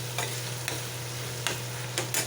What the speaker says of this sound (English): Okay, stir that a bit.